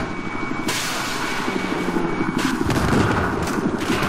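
Video game gunfire in Battlefield 4 multiplayer, rapid bursts of shots over a dense, constant rumble of battle noise, growing busier toward the end.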